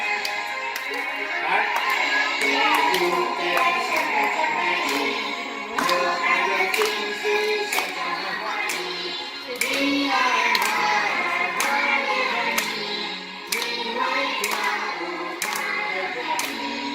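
A group of children on a school outing claps their hands in a steady rhythm while singing together, the claps sharp and continuous under their voices throughout.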